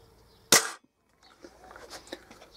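An Edgar Brothers Model 60 air rifle fires a single close shot, one sharp loud crack that dies away quickly, followed by faint handling noises.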